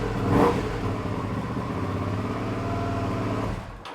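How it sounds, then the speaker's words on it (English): A Suzuki SV650 motorcycle engine, a written-off bike being rebuilt as a race bike after sitting unused, fires up close by, gives a quick rev, then runs at a steady idle for several seconds before cutting out. "Well, the engine runs, that's good."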